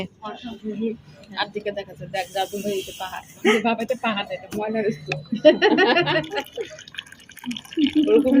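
Coffee pours from a steel flask with a soft, hissing liquid trickle, mostly beneath steady nearby conversation in a home setting.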